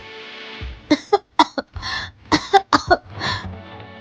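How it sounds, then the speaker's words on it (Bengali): Loud, harsh coughing from a person choking on water comes in a rapid cluster of sharp bursts, with a short pause before a second round of several more coughs, close to the listener. "সে জোরে জোরে কাশতে লাগল"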